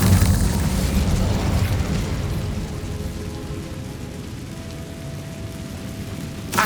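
Incendio fire spell cast in Hogwarts Legacy, a loud whooshing roar of flame with a booming, crackling burst that stays dense and steady before tailing off with a faint tone underneath.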